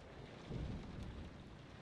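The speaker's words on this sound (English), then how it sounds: "It's very stormy outside" Thunderstorm raging outside in the Sherlock Holmes: Crimes & Punishment video game: steady rain hiss with a deep thunder rumble swelling in the middle, with no voices.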